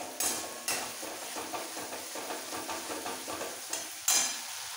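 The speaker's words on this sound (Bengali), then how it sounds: "আর দেবো এই ছোট চামচে 1 চামচ জিরে পাউডার। কষিয়ে নিতে হবে।" Cumin powder and slit green chillies are stirred in a pan for moong dal with hilsa fish head, giving a faint sizzle with soft repeated scraping strokes and a few sharper clinks.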